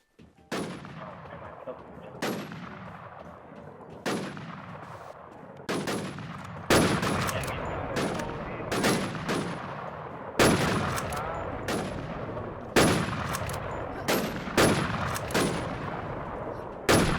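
Gunfire in the video game SurvivalZ cracks out in sharp single shots and short bursts, loud and close, with echoing tails and a brief rapid volley midway.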